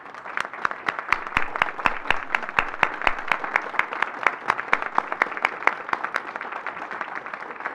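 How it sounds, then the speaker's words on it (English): Applause from an audience at a school board meeting: dense, steady clapping from many hands, moderately loud and continuous, with a few sharper individual claps standing out. "Will you please join me in a round of applause?"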